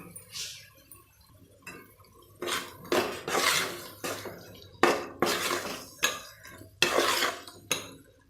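Curd being stirred into tomato masala in a pan for prawn biryani, a series of close, loud bursts of spoon scraping and clattering against the pan between quieter pauses.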